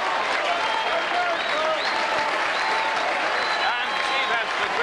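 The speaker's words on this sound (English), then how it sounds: "and Steve Hester greeted with a great round of applause." A rugby league crowd at a Warrington v Leigh match applauds substitutes coming on, a broad continuous roar of clapping across the stands with a commentator talking over it.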